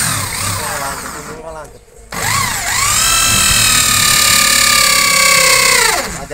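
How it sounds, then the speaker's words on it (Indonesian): An Ellka EL8 electric drill with a 9 mm bit whines up to speed in a loud, rising tone, stops briefly, then spins again at a high steady pitch before winding down, while a person talks over it. "kita coba untuk dengan menggunakan sebuah mata bor yang paling besar di sini, ada bor ukuran"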